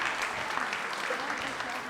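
A short round of applause fills a senior awards night hall, steady even clapping from the audience heard throughout.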